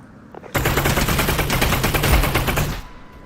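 A rapid, sustained burst of submachine gun fire from the video game Half-Life: Alyx, about two seconds of loud, evenly spaced shots with no talk.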